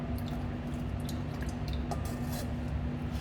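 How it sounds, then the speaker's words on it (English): Wet soil is rubbed through a sieve with distilled water in a soil lab, giving soft continuous squishing and dripping with faint scraping clicks, close and steady with no talk. "we have to keep on rub the sample, and then at the same time add distilled water"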